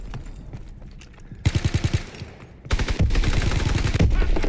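Gunfire in a WWII video game: scattered shots at first, then a rapid burst of repeated shots, then dense, loud overlapping fire from several guns that continues to the end.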